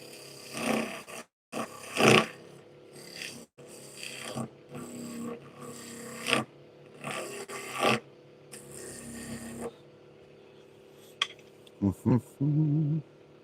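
Wood turning on a lathe with a skew chisel, the blade scraping and hissing against the spinning wood in short bursts separated by pauses. Later come lighter taps and brief buzzy scrapes at close range.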